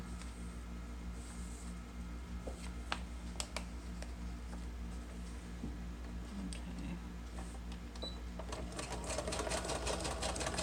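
A sewing machine zigzag-stitches with white thread just inside the edge of computer-printed paper. It gives a steady, close mechanical whir with small ticks and clicks, and runs alone without talk.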